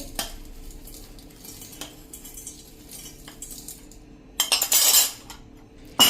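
Powdered sugar stirred into mango pickle, the spoon clinking and scraping against the bowl in scattered light taps, with a louder burst of mixing and clatter near the end; no talking.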